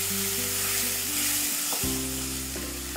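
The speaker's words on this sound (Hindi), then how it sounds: "सब बाजू से उसको अच्छे से सॉटे कर लेते हैं चिकन को" Chicken pieces sizzling and frying in a pan while being sautéed and stirred for a low-calorie chicken korma, a steady close hiss with a brief dip in the middle, no talking.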